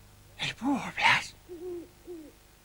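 An owl in a quiet park at night gives a few soft, low hoots in a short sequence, fairly close, after a brief exchange of voices.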